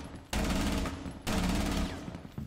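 Two short, loud automatic bursts from Ela's Scorpion submachine gun in Rainbow Six Siege, each rapid string of shots cutting off cleanly before the next.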